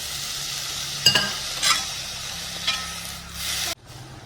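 Water with a little sugar simmers and sizzles in a pan while an egg curry cooks, a steady bubbling hiss broken by a few soft clinks and stirs before it cuts off suddenly. No one speaks.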